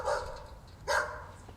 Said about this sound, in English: Oh, dog barking.